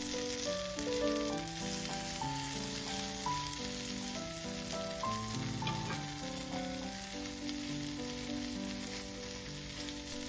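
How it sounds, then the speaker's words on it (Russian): Egg and canned fish patties frying in a covered pan over low heat give a steady, close, continuous sizzle and crackle with no talk, while soft music plays underneath. "Накрываем крышкой и томим на медленном огне до румяности."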